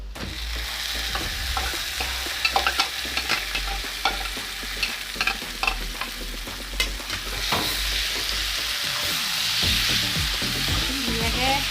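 Pieces of local chicken go into a hot pan for an Assamese chicken curry, sizzling and frying steadily while a spoon scrapes and stirs them in repeated clattering strokes, close and clear with no talking.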